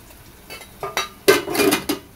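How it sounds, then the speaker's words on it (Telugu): A rice pot and a curry pot are set down in a home kitchen: a few separate metallic clanks and clinks of steel vessels, a sharp louder one in the middle, then a brief rattle, close and without talk. "అన్నం గిన్నె కూర గిన్నె దించుతాను కిందికి"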